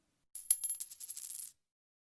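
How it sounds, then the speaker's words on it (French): A coin drops and skitters, first a sharp metallic clink, then a quick run of small rattles that fade out over about a second, close and isolated. "Pièce de monnaie."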